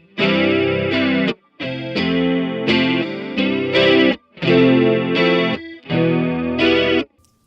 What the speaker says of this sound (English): this mutes one of the delay lines, causing it to sound a little bit more like a standard chorus.